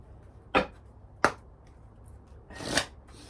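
Angel oracle cards are shuffled in three quick riffling bursts, two short sharp ones and a longer final shuffle, close and clear in a quiet room.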